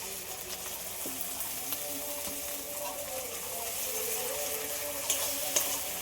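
Ground spice paste and tomato paste sizzling in hot oil in a pan, with a soft steady frying hiss and occasional stirring clinks, quiet and close.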